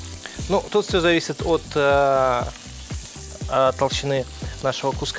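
A salmon fillet sizzles steadily in a hot frying pan beneath conversation, the soft frying hiss running continuously under two people talking in Russian.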